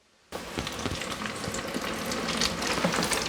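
Breaded beef strips for a crispy pan√©-style steak sizzle loudly in hot oil, a dense, steady crackle that bursts in abruptly after a brief silence and continues without talk.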